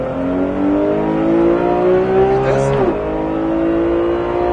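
A Porsche GT3 race car engine revs up hard and holds a loud, rising whine, with a brief gear shift dip near the end, heard from inside the car on a track.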